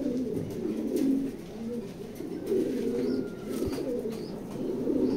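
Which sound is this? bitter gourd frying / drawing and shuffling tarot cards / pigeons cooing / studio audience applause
pigeons cooing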